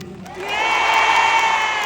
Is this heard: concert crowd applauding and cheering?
yes